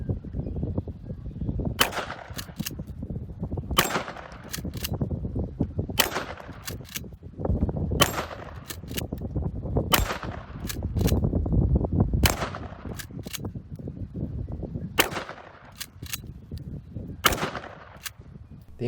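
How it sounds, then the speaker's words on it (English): Mossberg 590 Shockwave shotgun firing mini shells through an Opsol mini adapter, giving a series of loud, sharp single blasts spaced a few seconds apart, each with a short echoing tail. "I always shoot these firearms with the mini shells and the Opsol mini adapter"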